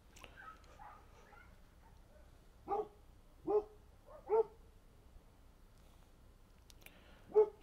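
Dogs barking at night, heard as about five separate barks spaced irregularly and fairly distant, standing out against a quiet background.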